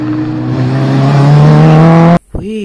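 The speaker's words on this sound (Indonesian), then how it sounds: "Ini adalah mobil balap Bugatti" A toy Bugatti race car gives off a loud, steady engine whine that climbs slowly in pitch, then cuts off abruptly, followed by a short warbling chirp.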